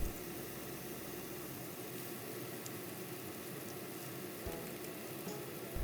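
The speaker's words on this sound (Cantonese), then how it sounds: "呢個時候，三文魚大概煎咗2分鐘。" Salmon fillet with a corn coating pan-fries in a flat frying pan, giving a steady, even sizzle that holds at a constant level throughout, with no voices.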